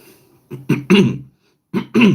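A few short coughs in quick clusters, close to the listener, with a brief pause between the groups of coughing.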